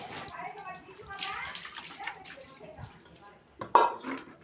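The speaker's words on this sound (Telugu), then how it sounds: "ఈ పీసెస్ అన్నిటినీ వాష్ చేసుకోవాలి ఒక బకెట్ నీళ్ళల్లో వాష్ చేసుకోవాలి" Pieces of country chicken are washed by hand in a bucket of water, giving close splashing and sloshing with a sharper splash near the end, under a person talking for most of the time.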